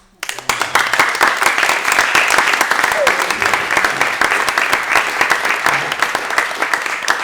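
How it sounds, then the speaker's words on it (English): A crowd applauds steadily, dense clapping starting abruptly and continuing at an even, loud level throughout. "Can we put our hands together for them?"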